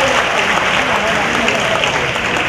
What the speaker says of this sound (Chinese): 大家是给他热情的掌声鼓励。